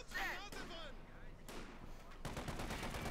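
Machine-gun fire in the real-time strategy game Company of Heroes 2 during a match where an M20 flanks a machine-gun team, with bursts of rapid shots, booms and whooshing effects.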